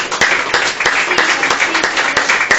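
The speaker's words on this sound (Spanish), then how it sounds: "Dale un aplauso a Dios" A church congregation claps in praise, a quick run of sharp, evenly spaced hand claps over steady crowd noise, close and fairly loud, with voices blended in.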